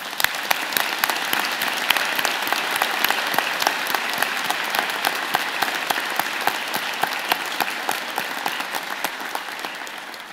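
Sustained vigorous applause from a large audience at a university convocation, dense clapping that stays loud and even for about ten seconds before easing slightly.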